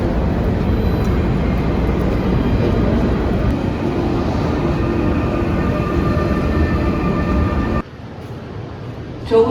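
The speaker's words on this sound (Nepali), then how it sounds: "म कोपेनहेगन सेन्ट्रल स्टेसन आइसकेको छु." A train at Copenhagen Central Station gives a loud, steady rumble and rolling roar that fills the platform for several seconds before dropping away abruptly near the end.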